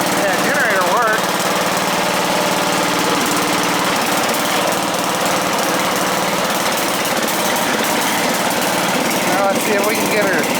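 Bolens GroundsKeeper garden tractor engine running steadily and loud close by after a cold start, a continuous droning rumble with faint voices over it.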